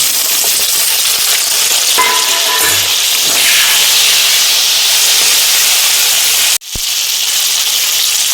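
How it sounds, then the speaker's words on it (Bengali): Malabar spinach hitting a pan of potatoes already fried with salt and turmeric, giving a loud, steady broadband sizzle with faint stirring clinks and one brief drop near the end. "নুন হলুদ দিয়ে আলুটা ভেজে নিয়েছি। এবার আমি পুঁই শাকটা দিই।"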